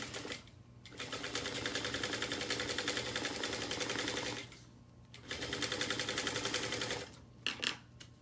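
Sewing machine stitching a garment seam in steady rapid bursts, running for several seconds, pausing briefly, then running again, close and fairly quiet with a few clicks at the end.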